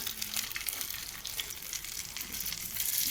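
Roti fritters fry in hot oil in a pan, giving a continuous close sizzle and crackle with no talk.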